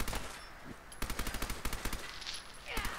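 Rapid bursts of automatic gunfire in the video game Fallout 4, several quick volleys of sharp shots separated by brief pauses, loud and close, with a little talk underneath.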